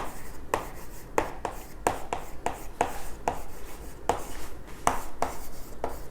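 Marker or chalk writing a topic name on a classroom board, a series of short scratchy strokes and taps in an irregular rhythm, close and fairly quiet, with no voice.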